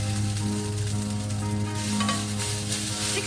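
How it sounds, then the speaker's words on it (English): Food sizzles steadily in a frying pan for a breakfast-for-dinner meal, a continuous close crackle and hiss that holds without pause and without any talking. "Oh, it's good sizzle"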